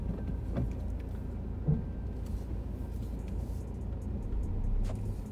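A learner driver's car pulls away in first gear during a driving lesson, giving a steady low engine rumble that swells slightly toward the end, with no voices.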